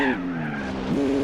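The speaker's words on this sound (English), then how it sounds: "engine audio has been changed to the GTR engine audio as it should." Gran Turismo 4 video game car fitted with GT-R engine audio, a steady droning engine tone with a tire squeal near the end of a brief loud burst.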